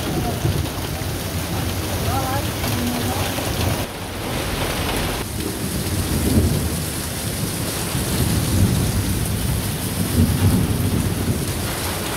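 A thunderstorm over Bishoykhali bazar in Jhenaidah Sadar brings a constant, dense hiss of heavy rain hitting surfaces, with low rumbles of thunder rolling beneath it throughout.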